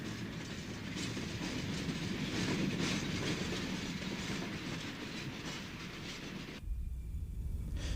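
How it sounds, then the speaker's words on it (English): Pennsylvania Railroad P5A box cab electric locomotives roll through Enola Yard in Harrisburg, a faint steady rumble of wheels and rail clatter from a distance, ending in an abrupt cut to low hum. "At the Enola Yard in Harrisburg, we see 4 P5A box cabs as they move through the yard."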